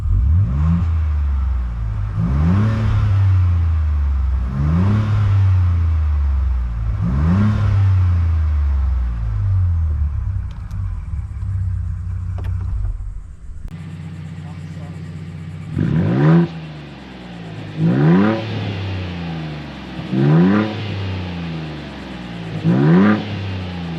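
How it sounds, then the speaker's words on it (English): Ford Bronco Raptor on its stock exhaust in Baja mode, revving repeatedly with a deep rising-and-falling engine note. The first half runs at a steady rhythm, then a brief break, then sharper blips closer together. "And now we have Baja exhaust mode on the stock system."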